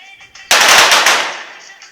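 Women's 25m pistol shooting competition, a sharp loud report followed by a long ringing decay in an open range, with faint background sounds before the shot.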